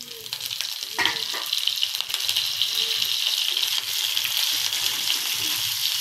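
Mildly hot green chillies frying in oil, a steady close sizzle with fine crackling and a few soft clinks of stirring, with no talk.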